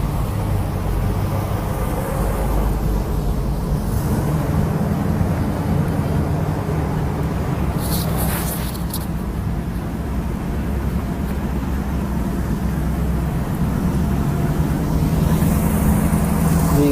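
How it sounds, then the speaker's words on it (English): Vintage cars drive across the newly opened Tuolumne Street rail bridge in downtown Fresno, a loud, steady blend of engine rumble and road noise with no distinct gaps. "The vintage cars are continuing their run across the bridge."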